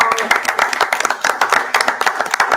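Round of applause at a city Board of Aldermen meeting for city workers; a small group claps in quick, uneven bursts, close and moderately loud, with some voices mixed in.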